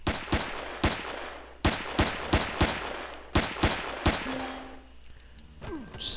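Gatling gun fire in the Empyrion video game: a string of sharp, loud shots in uneven bursts, some close together, with a sustained rumble between them and a faint tone near the end.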